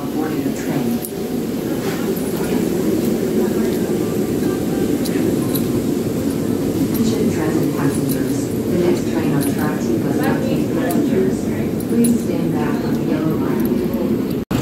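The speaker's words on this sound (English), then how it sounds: "here's the Amtrak train that goes to Harrisburg" An Amtrak train bound for Harrisburg sits at a station platform with a steady, loud low rumble that holds throughout, overlaid by clanks and hiss, while a voice talks over it.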